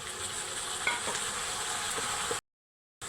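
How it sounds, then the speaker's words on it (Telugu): Chopped tomatoes frying in a pan with a steady close sizzle and light stirring scrapes, cutting to brief silence near the end, with no speech. "ఇప్పుడు కోసి పెట్టుకున్న టమాటా ముక్కలు వేస్తున్నాను"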